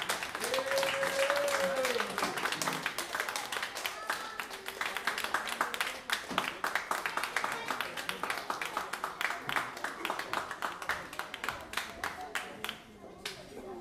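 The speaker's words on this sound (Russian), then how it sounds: "Хлопаем громко" An audience claps loudly and steadily for a gospel choir at a live concert, with dense sustained applause throughout and a voice speaking briefly over it near the start.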